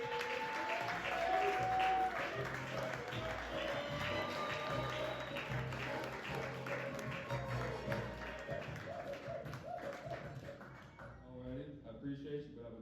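Applause from a stand-up comedy crowd greets a comedian, sustained and fairly full before tapering off near the end, while a voice speaks over the clapping.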